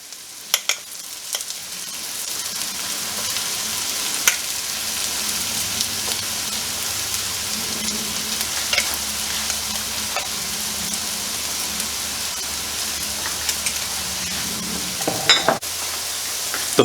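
Mushrooms and flour sizzle steadily in a pan for beef stroganoff while a utensil stirs and scrapes through them, a continuous close frying hiss with occasional clicks and knocks and no voices.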